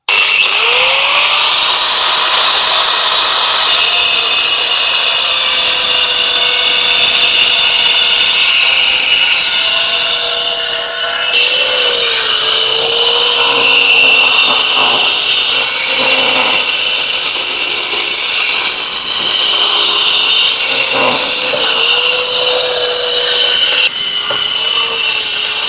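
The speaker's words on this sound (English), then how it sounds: "I'm not sure how well this is going to cut the metal" A circular saw cutting through wood with metal embedded inside, a loud, continuous high-pitched whine that dips and strains under load with grinding rasps, sustained close-up throughout.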